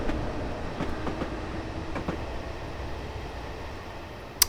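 Class 303 electric train departing in Train Simulator 2015, a steady low rolling rumble with faint rhythmic wheel clicks and a short sharp click at the end.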